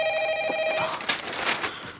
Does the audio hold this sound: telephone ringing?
yes